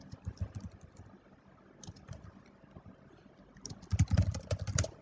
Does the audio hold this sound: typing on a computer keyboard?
yes